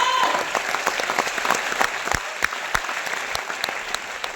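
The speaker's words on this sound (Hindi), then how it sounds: "एक बार जोरदार तालियां।" Loud, close audience applause with dense clapping filling the room at an event, continuing steadily for several seconds with some crowd noise.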